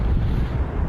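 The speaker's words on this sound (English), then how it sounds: "as you can probably hear, it is quite windy" Strong winter wind on a seaside walkway in Brighton buffets the microphone with a constant low rumble and roar, steady and loud throughout.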